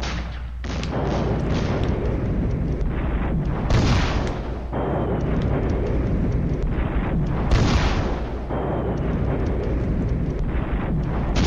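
A WWII strategy game barrage from six batteries of 120mm guns pounds a village in a dense, roaring wall of heavy blasts and rumbling explosions, loud and continuous, with sharper bursts swelling around four and eight seconds.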